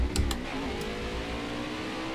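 A race car engine in the NASCAR Xfinity Series video game, a steady droning engine tone under acceleration with a couple of brief clicks near the start, close and continuous.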